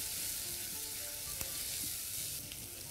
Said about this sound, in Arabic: حطينا دلوقتي الثوم، بس تقليبتين، مش عايزين الثوم